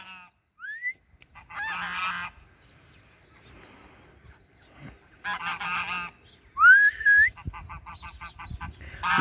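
Farmyard geese, including a Toulouse gander, honk in short repeated bursts of nasal calls separated by quiet pauses, close and fairly loud with faint rustling between.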